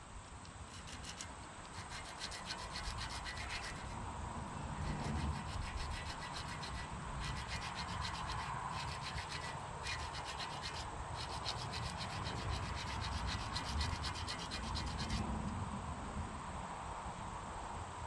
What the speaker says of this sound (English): So my fix is to sand it flat